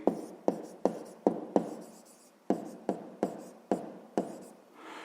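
A pen writes by hand on paper in quick separate strokes, about a dozen close scratchy bursts in an uneven rhythm with short pauses between, quiet and alone.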